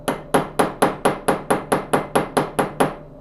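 Eleven light, evenly spaced hammer taps ring out crisply one after another while a classic Powr-Kraft router is being rebuilt, each strike sharp and close with a brief decay, no voices.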